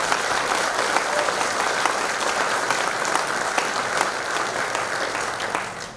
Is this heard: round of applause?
yes